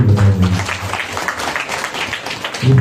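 An audience at a community event applauds a team, producing a steady wash of clapping throughout. A voice speaks over the start and end.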